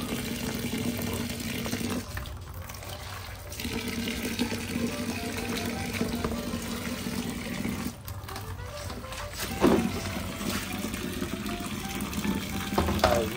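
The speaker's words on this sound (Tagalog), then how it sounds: "Ngayon, hugasan natin maigi yan." Salted cabbage being rinsed for kimchi under running water, a steady close splashing wash with brief pauses and occasional handling knocks, no talk.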